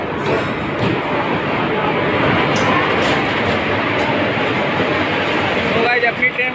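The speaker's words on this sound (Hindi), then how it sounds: "तो ट्रेन आती है तो ट्रेन का अराइवल देखते हैं।" Doon Express hauled by a WAP-4 locomotive arriving at the Varanasi Junction platform, a loud steady rolling rumble of wagons with faint clatter throughout, under busy platform noise.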